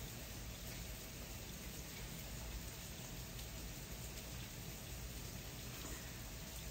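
Nighttime rainfall gives a constant soft wash of drops, uniform and unbroken from start to finish, with nothing else audible.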